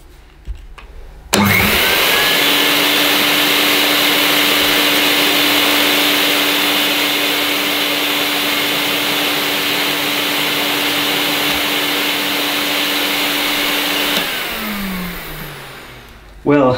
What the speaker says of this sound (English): So I just turn the machine on until the solution starts to flow through the tube